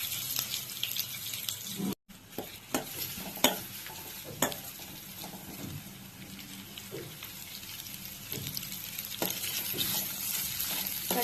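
Two large sliced onions sizzle in a pan for liver gravy, a soft continuous frying hiss broken by occasional stirring scrapes and clicks, fairly quiet throughout.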